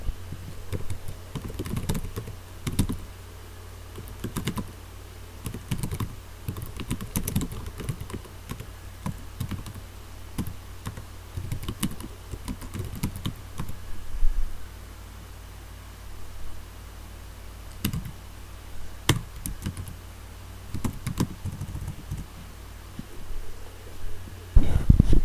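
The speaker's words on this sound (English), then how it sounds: "I'm going to go ahead and enter some search terms" Search terms are typed on a computer keyboard as irregular runs of light key clicks with brief pauses, over a faint steady hiss.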